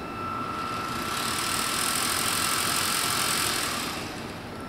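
A small electric motor in a 1:50 scale Disney Nautilus R/C submarine model runs at full throttle out of the water, a steady high whine that swells and fades over a few seconds, close and alone.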